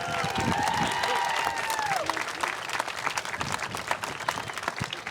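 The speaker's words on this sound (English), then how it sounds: "Let's hear a round of applause for our world-class committee." Audience applause for the Heart Walk committee at an American Heart Association event in Milwaukee, a dense sustained clapping that fills the room for several seconds, with some voices mixed in.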